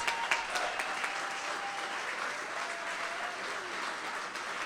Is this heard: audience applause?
yes